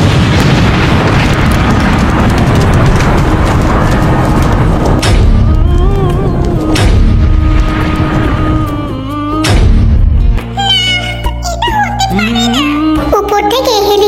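A bomb on a helicopter explodes in the sky with a loud, heavy booming rumble lasting several seconds, then fades as tonal music takes over.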